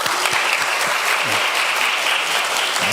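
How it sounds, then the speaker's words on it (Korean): Steady applause from a church congregation during a sermon, dense and continuous clapping at a fairly close, even level with no break. "한 번 더 박수 좀 드릴게요."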